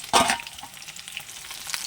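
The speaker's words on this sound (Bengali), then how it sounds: "মাছগুলোকে আগে ভালো করে ভেজে দিই।" Fish fry in hot oil in a pan. A loud burst of sizzling opens, then settles into a crackle of spits and pops nearby, with no voices.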